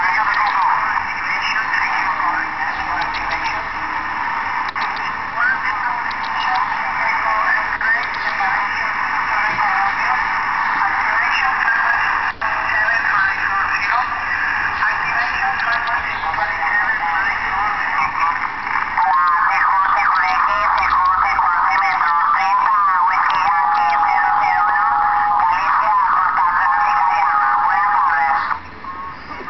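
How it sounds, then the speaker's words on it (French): 11-meter CB radio band received through an SDR app on an Android phone, a continuous band-limited hiss with faint voices and warbling tones coming through, steady and loud throughout. "j'écoute le 11 mètres"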